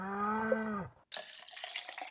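A cow in a farming video game gives one long, clear moo, then stops, followed by a brief, soft clatter of game sounds.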